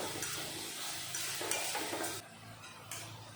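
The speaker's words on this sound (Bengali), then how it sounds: "এখন ভালো করে একটু কষিয়ে নেব" Spice masala for fish curry stir-fried in a pan, a continuous moderate sizzle with intermittent scraping strokes of a spoon, close by and without talk.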